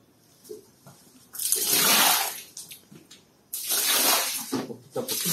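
Water poured out onto a floor for washing it at home, heard as two long rushing splashes separated by a pause, close and fairly loud with no voices over them.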